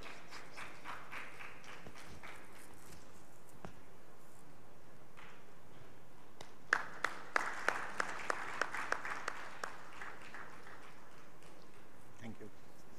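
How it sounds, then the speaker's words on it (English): An audience at a medical conference applauds after a presentation, a sustained wash of clapping with a burst of sharp, close individual claps in the middle before it thins out. "Can we have a huge round of applause for our Rajesh sir for the wonderful presentation."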